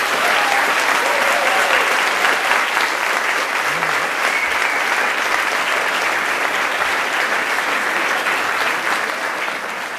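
An audience at a school cultural evening of the 12th grade at Wilhelm-Ostwald-Gymnasium in Leipzig gives loud, dense applause that holds for the whole stretch and then tapers slightly at the end.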